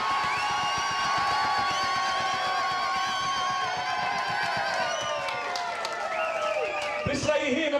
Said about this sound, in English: Give him a cheer no matter what.